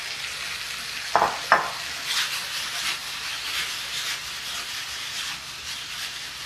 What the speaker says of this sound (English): I'm gonna add our broccoli to this skillet now